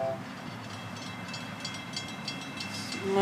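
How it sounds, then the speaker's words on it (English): An FEC freight train, number 101, rolls past on the rails with a steady low rumble and faint rhythmic clatter, heard from trackside without talk. "This train is not so long."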